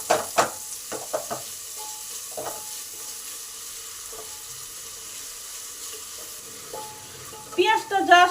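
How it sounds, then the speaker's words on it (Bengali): Onions fry gently with salt in a pressure cooker for fried rice, a faint low sizzle with scattered stirring taps early on and a louder clatter at the very end. "নুনটা দিলে পেঁয়াজটা তাড়াতাড়ি ভালো করে ভাজা হবে।"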